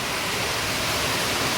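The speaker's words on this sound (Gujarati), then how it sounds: "આ વરસાદ આવી ગયો છે" Heavy rain pouring outside a village home at night during a thunderstorm, a steady, even hiss of downpour with no breaks and no voices.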